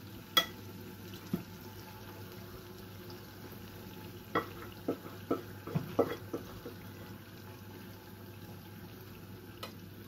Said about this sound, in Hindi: अब पाए भी इसमें ऐड कर दूंगी।